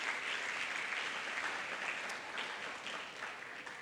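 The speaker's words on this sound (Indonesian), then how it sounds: "Tepuk tangan sekali lagi untuk teman-teman semuanya." Applause from an audience at a campus event for students, sustained and fairly even throughout, a dense steady clatter of many clapping hands heard from a moderate distance with no talk over it.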